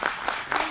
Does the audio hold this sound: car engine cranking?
no